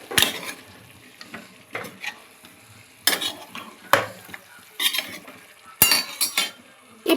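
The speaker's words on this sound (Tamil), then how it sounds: "இப்போ உருளைக்கிழங்கையும் போட்டு நல்லா நம்ம தக்காளி கூட பரட்டுற மாதிரி நல்லா வதக்கிக்கலாம்." Potatoes and tomatoes sautéed together in a pan, with bursts of sizzling and clattering spoon strokes against the metal separated by quieter pauses, close and fairly loud.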